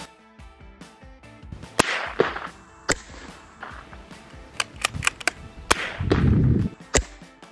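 Sharp reports from a .22 Long Rifle firing round nose bullets ring out as several loud, isolated cracks at irregular intervals, with one brief low rumble near the end and no talking.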